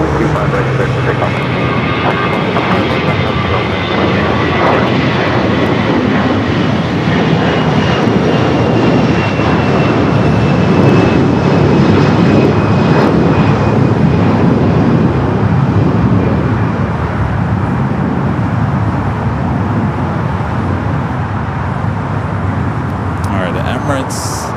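An airliner takes off from runway 25 right at LAX, its jet engines producing a loud, sustained broadband roar with a faint rising whine that holds throughout, heard from a distance outdoors.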